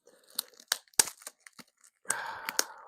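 Plastic bags wrapped around a book package are torn open by hand in sharp crinkly bursts, several quick rips followed by a longer tearing stretch, close and with no talking.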